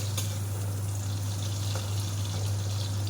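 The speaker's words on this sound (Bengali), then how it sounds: "তো এখন আমি পনিরটা ভেজে নিচ্ছি" Paneer pieces frying in oil in a pan, a steady even sizzle that carries on unbroken under a constant low hum, with no one talking.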